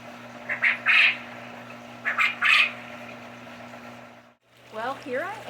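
Adult quail squawking nearby in two short bursts of harsh calls, then a brief pause before a further run of warbling, chattering calls, with a steady low hum underneath.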